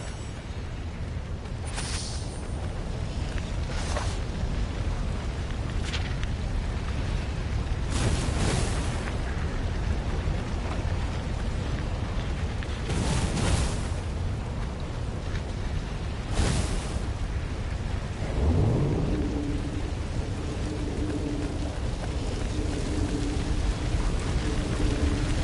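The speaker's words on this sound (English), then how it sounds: "Renardo hated cannon traps." Cannon traps fire inside a temple in the video game Stories: The Path of Destinies, several sharp booming blasts spaced seconds apart over a constant rushing rumble, with no voices.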